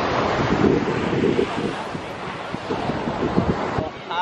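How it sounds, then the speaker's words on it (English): Ocean waves and wind at Virginia Beach roar as a broad, blustery rush with microphone buffeting, close and loud, while people talk over it. "Terrified of the waves."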